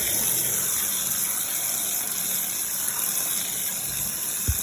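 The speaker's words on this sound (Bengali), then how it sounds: "এখন ডাঁটাটি আমি ধুয়ে নিচ্ছি।" Tap water runs steadily over vegetable stalks being washed for a potato and fish curry, a continuous near gushing splash with no talk.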